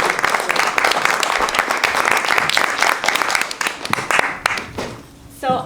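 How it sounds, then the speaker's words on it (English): An audience at a healthcare talk on homeless care applauds steadily with dense, close clapping for about four and a half seconds before it thins out and fades. "Can we have a round of applause again for this?"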